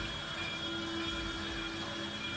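A tram passing along a street, heard as a steady, even rumble and hum with a few sustained tonal whines, continuous for the whole stretch and with no voices.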